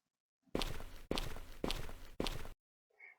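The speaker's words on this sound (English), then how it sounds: "All avatars produce footstep sounds" Four evenly spaced, loud footsteps of a virtual avatar in a virtual environment land one after another, each a broad thud, then stop.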